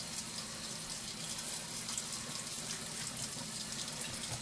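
A kitchen tap runs steadily to wet bread dough for a stuffed Italian chicala, a soft, even, continuous rush of water at low level with no break and no talk.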